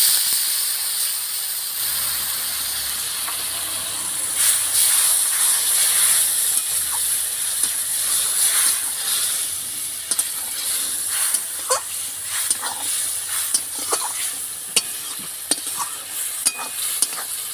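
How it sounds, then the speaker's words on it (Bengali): Spice paste frying in mustard oil with water added, for a jackfruit and prawn dish: a steady close sizzle and steamy hiss throughout, with scraping stirring clicks growing more frequent toward the end. "মশলাটা কষবো যতক্ষণ না মশলা থেকে তেল ছেড়ে দেয়"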